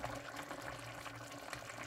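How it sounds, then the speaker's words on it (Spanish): A pot of chicken and zucchini (squash) stew simmering on the stove as its broth reduces, giving a steady, soft bubbling hiss throughout with no voices. "Y dejamos que cueza, que se termine de reducir el agua del caldo."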